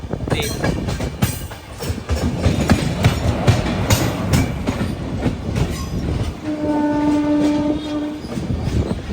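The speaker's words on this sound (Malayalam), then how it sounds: "ഇപ്പോൾ ഒരു ട്രെയിൻ വരും. MGR ചെന്നൈ സെൻട്രലിൽ നിന്ന് ശ്രീമാതാ വൈഷ്ണോദേവി കട്ടറിലേക്ക് പോകുന്ന ആന്തമാൻ എക്സ്പ്രസ്." Andaman Express, an old-coach train running from MGR Chennai Central to Shri Mata Vaishno Devi Katra, rumbles past with steady rail clatter, then sounds a loud sustained horn blast near the end.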